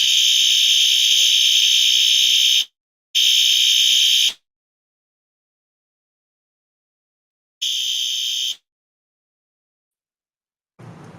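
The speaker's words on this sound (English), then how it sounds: "Well, while the fire alarm goes off" A shrill, high-pitched fire alarm blares in long loud bursts, cutting off between them and leaving stretches of silence, with a faint low thump at the end.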